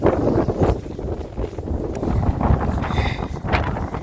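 Strong wind buffets an exposed camping spot on the Quiraing in Scotland, a steady loud roar with gusty rumble against the microphone throughout.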